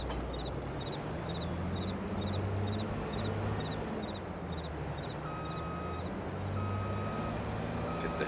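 Repeated high-pitched reversing beeps from a truck backing a trailer into place on a farm in Farming Simulator 22, pulsing steadily over a constant low engine drone with occasional tonal alerts.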